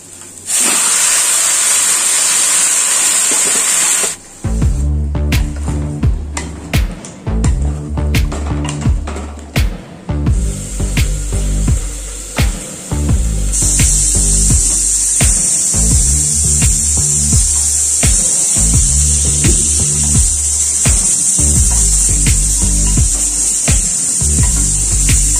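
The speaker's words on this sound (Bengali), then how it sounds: "পেঁয়াজটা ভাজা হয়ে গেছে, এবার মাংসটা দিয়ে দেবো।" Meat tipped into a pan of fried onions breaks into a loud, steady hiss of sizzling, punctuated by rhythmic low clattering and stirring knocks through the middle before the sizzle settles into a constant bright hiss.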